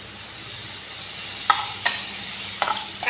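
Green tomatoes tossed into katla fish roe frying in a pan with spices, giving a close, soft sizzle broken by three sharp scraping stirs.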